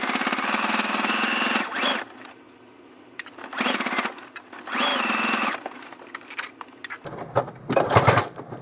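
A sewing machine stitches RV curtains for a mock cornice along a serged edge in several short runs separated by pauses, with a brief bright burst near the end.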